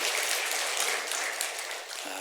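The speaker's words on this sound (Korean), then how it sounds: "우리 영광의 박수를 같이 한번 올려드리십시다" A church congregation claps together in a dense, rain-like patter of applause that holds steady for about two seconds before fading.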